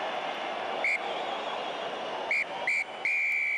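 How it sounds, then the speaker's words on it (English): Referee's final whistle at a Springboks versus Italy rugby match, several sharp shrill blasts, the last one long and sustained, over steady stadium crowd noise. "the final whistle blows"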